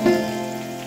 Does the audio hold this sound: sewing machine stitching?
no